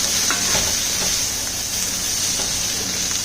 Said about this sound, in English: and then we'll just keep stir frying.